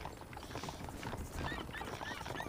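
Horses clip-clop in Red Dead Redemption, a quiet, steady patter of hooves with a whinny-like cry and faint mechanical clicks in the background.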